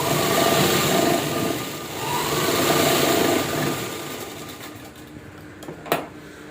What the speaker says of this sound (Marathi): आता इथं दाब शिलाई घेऊया